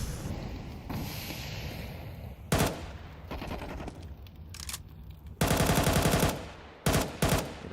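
Two different guns fire in a Counter-Strike 2 match: quick automatic bursts and sharp single shots come in irregular clusters, with louder sustained volleys toward the end, with no talk over them.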